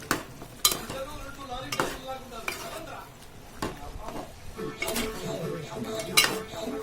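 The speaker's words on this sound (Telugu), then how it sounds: "దీన్ని మొత్తం కలుపుకుందాం" Chicken curry is stirred in a pot with a metal spoon, giving repeated scraping clanks and clinks against the pot over a soft sizzle, in an uneven rhythm.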